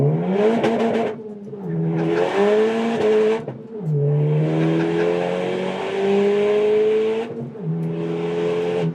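A Honda Civic Type R (FK8) exhaust roars through several rising pulls, each climbing in pitch before brief pauses as gears change, loud and close.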